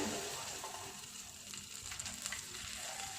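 Butter melts in a hot pan with a steady, soft sizzle and crackle, low and close throughout, with light stirring scrapes.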